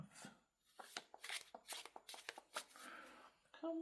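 Pick-a-card reading cards are shuffled by hand in a quiet room, a run of crisp riffling bursts and soft flicks close to the listener, with faint background tones near the end.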